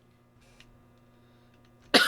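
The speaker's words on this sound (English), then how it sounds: "Sorry for the cough" A single sharp cough bursts out near the end, loud and close, after a stretch of quiet background hum.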